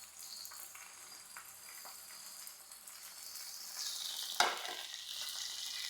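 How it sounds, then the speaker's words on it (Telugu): Cumin and garlic fry in a small pan with a steady, soft hiss, swelling into a brighter sizzle after a sharp clink near the end, with no talking. "చిన్న మూగుడు పెట్టి అందులో ఇవన్నీ వేపుతాను."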